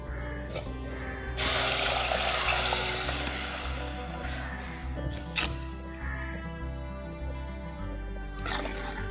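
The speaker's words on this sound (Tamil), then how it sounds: "இப்போ நம்ம கரைச்சி வச்ச புளி தண்ணியை இது கூட சேர்த்துக்கலாம்" Tamarind water is poured into a simmering Kerala-style fish curry with Kashmiri chilli powder, bringing a loud hissing sizzle that fades gradually over steady background music.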